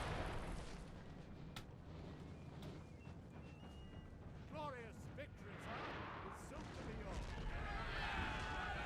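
Cannon fire from artillery in the Napoleonic battle game Napoleon Total War, heard as dull, distant booms under a constant battlefield din with overlapping talk.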